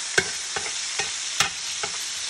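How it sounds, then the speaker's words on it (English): Frozen hamburger meat sizzles in a hot pan while a utensil breaks it apart, giving a steady frying hiss punctuated by five evenly spaced scraping jabs, close and clear with no talking. "I'm gonna break this hamburger up."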